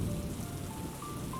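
Steady rain falls on a surface in an even, close, continuous patter with a low rumble underneath and no voices.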